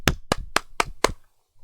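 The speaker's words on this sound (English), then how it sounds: "You can hear these claps. You understand when I'm clapping?" Five sharp hand claps in a quick, even rhythm, close and clear against a silent background.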